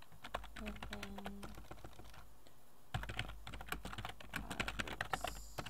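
Quiet typing on a computer keyboard, with rapid irregular key clicks in bursts and a short pause partway through.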